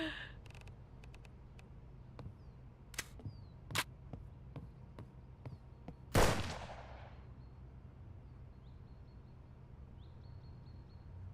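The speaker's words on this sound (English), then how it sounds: "that gunshot attracted another wolf" A single gunshot in the DayZ video game, one sharp loud crack with a brief decaying tail, standing out in a quiet scene after several fainter clicks and pops.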